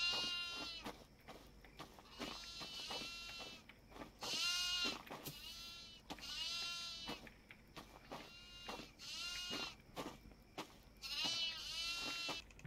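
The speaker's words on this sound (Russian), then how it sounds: "У нас, кстати, два козла сбежали." Goats bleat repeatedly in a video game, loud and near, with overlapping harmonic calls in uneven bursts across the whole stretch and no talk over them.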